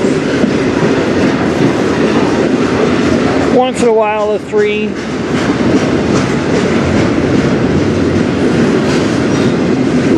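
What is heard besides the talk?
CN freight train with AC locomotives passing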